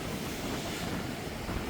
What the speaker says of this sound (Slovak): Voda sa už trošku znormalizovala, vlny už nie sú také obrovské.